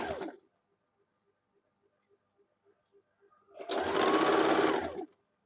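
Sewing machine stitching the lower strip of a blouse: a brief rattle at the start, soft regular ticking during a quiet stretch, then a loud, steady burst of rapid stitching lasting over a second before it stops.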